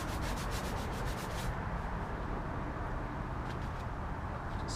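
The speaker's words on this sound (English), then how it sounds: "Just scraping off some of that. It was like a sticky resin under there." Scraping sticky resin off a garden container before spray painting, a steady rough rubbing and scratching sound, close and continuous, with no talking.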